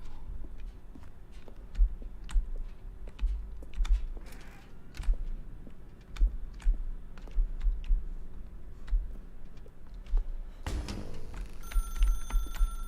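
A telephone rings in The Stanley Parable: Ultra Deluxe video game. Sharp, scattered clicks and taps come first, then a bright electronic ring bursts in near the end, loud and close.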